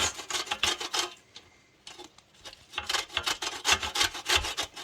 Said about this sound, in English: I'm going to go ahead and take my grater and get some of the zest off of these lemons